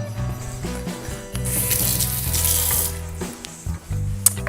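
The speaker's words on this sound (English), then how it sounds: "Wash my hands" Water runs from a kitchen tap while hands are washed during muffin baking, a steady close splash of about four seconds mixed with background music.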